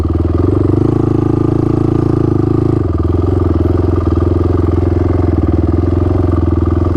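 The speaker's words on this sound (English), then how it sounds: "I'm just idling right now." An adaptive ATV built for an amputee veteran idles steadily at low revs, its engine putting out a loud, even, close-up chugging rumble with a slight clatter that stays constant throughout.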